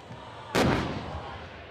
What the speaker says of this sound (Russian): И вот выстрел.